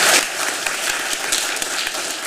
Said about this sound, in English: May I have a round of applause for the one and only Dr.